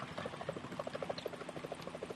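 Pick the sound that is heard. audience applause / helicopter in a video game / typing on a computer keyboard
helicopter in a video game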